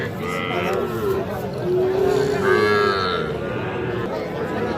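A calf among cattle at a rural livestock market lows with a drawn-out, mid-loudness call over a steady crowd murmur, with people talking nearby.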